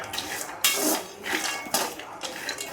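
Almonds roast in a pan while being stirred, making repeated close scraping and rattling clatters of nuts and spoon against metal in uneven bursts, with no voices.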